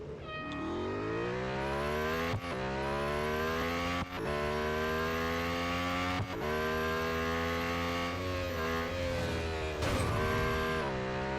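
Lotus Emira GT4 race car in Real Racing 3, its engine droning loud and close as revs climb steadily, broken by four sharp gear-change dips before each pull resumes.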